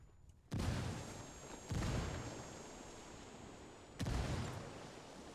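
Frag grenades explode in Ghost Recon Wildlands, three sharp, heavy blasts spaced a second or two apart, each with a booming rumble that lingers between them.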